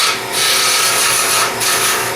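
A wood lathe turns soft plywood into a cylinder, giving a loud, steady cutting hiss and rasp with short breaks as the tool chips away at the spinning blank.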